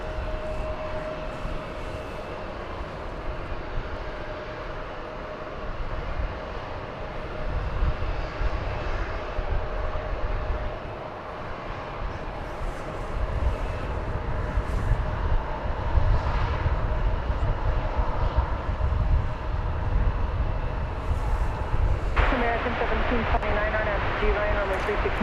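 Jet airliner departing DFW Airport, a loud sustained engine roar building as it climbs away, with someone talking over it and a radio call cutting in near the end.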